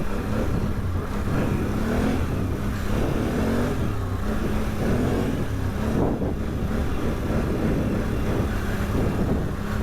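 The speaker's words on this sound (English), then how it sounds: "Man, I just love giving this thing throttle." A 2021 Can-Am Outlander 850 XMR ATV engine revving outdoors, a continuous rough, rumbling drone with rises and falls in throttle, muffled by heavy wind noise on the microphone throughout.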